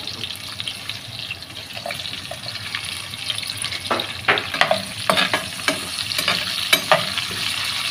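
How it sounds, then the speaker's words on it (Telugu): Onions and garlic fry in a pan for an eggplant curry, a steady sizzle with clinks and scrapes of stirring that sharpen in the second half, close and without talk. "ఉల్లిపాయలు అవన్నీ బాగా వేగిపోయాయండి"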